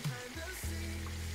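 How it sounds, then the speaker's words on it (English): Food frying in oil in a small pot while making fried rice gives a steady, soft sizzle with a low hum beneath it. "So they will be cooking inside this oil here."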